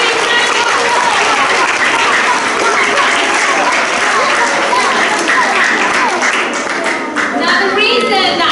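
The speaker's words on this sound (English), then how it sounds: "So let's give our amazing Hungarian winners a big round of applause." Loud, dense round of applause in a school assembly for Hungarian winners, many hands clapping continuously close by, with children's voices chattering underneath.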